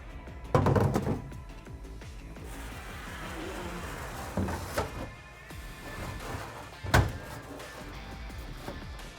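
A DECKED storage framework is set down into the bed of a 2019-2023 Ford Ranger, giving a few hollow thunks and knocks spaced several seconds apart with quieter shuffling and scraping between them.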